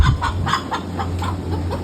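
A chicken clucking nearby in a quick series of short, rhythmic clucks over a low steady hum.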